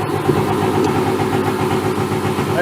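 A dirt bike engine is kicked over and settles into a steady, close, loud idle with an even putter throughout, no voices over it.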